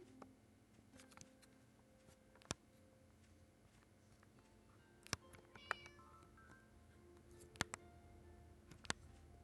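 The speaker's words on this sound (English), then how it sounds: "African wildcat." An African wildcat in a video game gives a few soft meows, faint against a quiet ambient backdrop with scattered small clicks and ticks.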